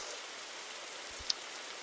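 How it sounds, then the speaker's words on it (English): Looping rain in a Unity scene makes a soft, steady, even hiss of falling drops with a single small click partway through. "So now we have a looping rain sound"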